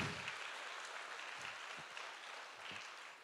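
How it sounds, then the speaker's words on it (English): An audience at a book launch program in Chettinad applauds, a continuous dense wash of clapping that stays fairly steady throughout, with a few low thumps underneath. "Please give another huge round of applause for this talented team, the Nagarathar Way."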